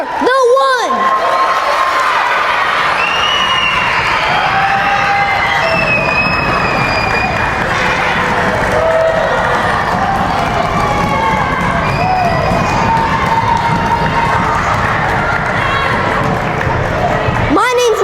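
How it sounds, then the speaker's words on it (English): Elementary schoolchildren at an assembly cheer, shout and whoop together with some clapping, a loud continuous crowd roar with high excited voices across the whole stretch. "Give a round of applause for yourselves because you are the one."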